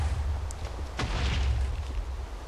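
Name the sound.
explosions in the video game Feeding the Beast modpack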